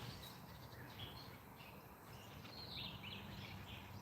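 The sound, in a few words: birds singing in garden trees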